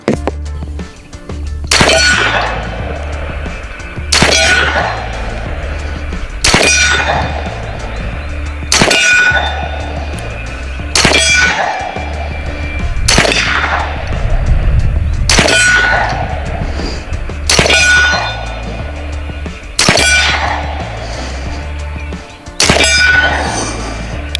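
A BinTac S45 .45 caliber semi-automatic airgun is fired about ten times at a steady pace, each shot followed by a loud metallic clang of the pellet striking a steel target.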